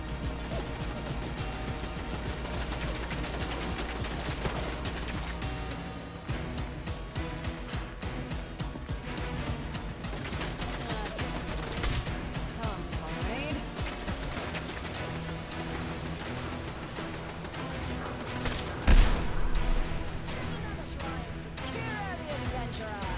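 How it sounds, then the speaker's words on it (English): Gunfire in Fallout: London, repeated shots and bursts amid a dense, busy combat mix of crashes and game effects, with one sharp loud bang near the end and speech-like sounds scattered through. "Who's even shooting?"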